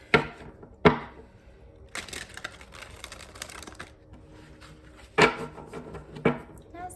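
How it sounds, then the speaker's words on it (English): Tarot-style reading cards being shuffled, with several sharp riffling bursts and soft slaps of the deck against a surface, close and fairly quiet, with gaps of faint room noise between them. "That's a good shuffle here."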